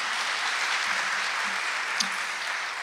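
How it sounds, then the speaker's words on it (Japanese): Audience applause at a public debate for the Fukushima prefectural governor election: steady, even clapping from a room of people that fills the whole moment without a break, with no talk over it. "皆様拍手をお願いいたします。"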